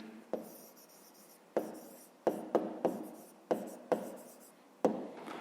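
Pen writing a math answer on paper, quiet close scratching strokes in short separate bursts, about eight in a row with pauses between them, with no talking.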